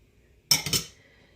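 A single short burst of a utensil clinking and scraping in a bowl while breadcrumbs, beaten egg and milk are mixed, close and fairly loud, then quickly fading to quiet.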